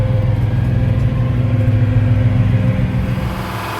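Engine room of a 65-foot Hatteras LRC long-range cruising yacht under way off Cuba, a loud steady diesel drone with a deep low hum and a constant mechanical whine, sustained without a break.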